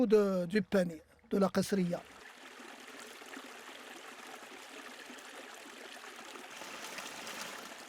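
Water flows steadily through a foggara irrigation channel in a desert oasis, a soft continuous trickle that follows a few seconds of someone speaking.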